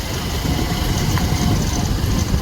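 Motorcycle engines at a village bike rally give a loud, continuous low idling rumble that holds steady with no pauses.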